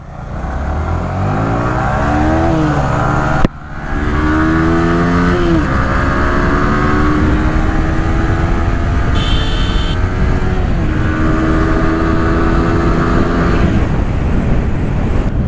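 Two Yamaha R15 V3 motorcycles race side by side, their engines revving loud and close, the pitch climbing and falling through repeated acceleration over a steady roar.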